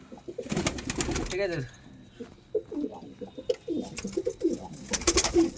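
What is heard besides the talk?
golden-eyed pigeon cooing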